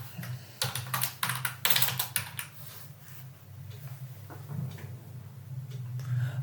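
Typing on a computer keyboard while writing code: rapid bursts of close key clicks early on, then lighter, sparser tapping, with no talk.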